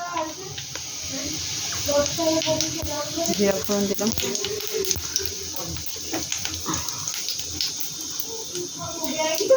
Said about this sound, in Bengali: আর ফুলকপিটা ভেজে দিচ্ছি ভালো করে।